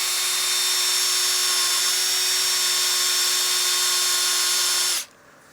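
A cordless drill fitted with a sanding disc whines steadily while power sanding a wood platter, a loud, even high-pitched motor drone that holds for about five seconds and then cuts off abruptly.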